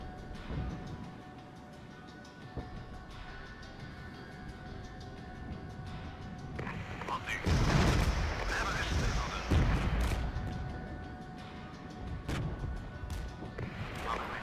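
Artillery and gunfire from the Regiments war strategy video game thud and crack at a distance under a continuous battle rumble, swelling into a heavier cluster of blasts midway, with someone talking over it.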